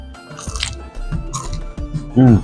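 Crunchy bites into the crisp edge of a Mediterranean dish, with a few loud, close crunches and chewing sounds and a brief vocal murmur near the end.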